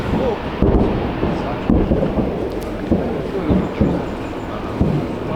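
Grad multiple rocket launcher salvos as a continuous heavy rumble, with repeated dull booms standing out roughly every second over a steady low roar.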